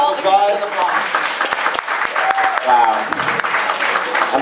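Applause from a town hall audience in the Bronx, a steady broadband patter of clapping lasting several seconds with voices speaking over it.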